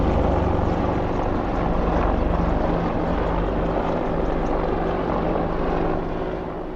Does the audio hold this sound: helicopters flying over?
yes